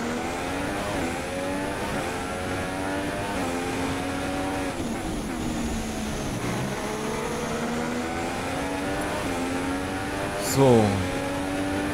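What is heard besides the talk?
F1 race car engine at full throttle, F1 2016 video game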